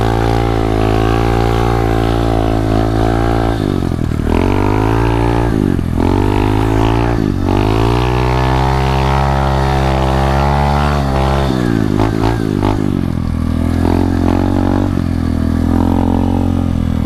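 Two 125cc pit bikes, an SSR 125 and an Xmoto 125, race on a sandy dirt trail. A loud, close, buzzing engine drone climbs and dips with repeated revving and throttle changes, with no talk.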